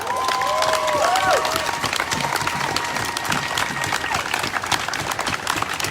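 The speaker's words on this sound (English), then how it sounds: "Give me a round of applause for that." Loud, sustained crowd applause and cheering at a Portland grassroots activist rally, a dense, steady roar of clapping with a few whistles early on.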